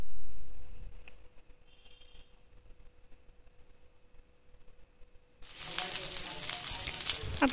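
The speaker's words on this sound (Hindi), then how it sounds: "अब हम इसमें लहसुन अदरक ऐड करेंगे और इसको भी अच्छी तरह से भून लेंगे।" Garlic and ginger sizzle in hot oil in a pan while cooking a saucy pasta, the frying starting quiet then breaking into a loud, steady crackling hiss in the last couple of seconds.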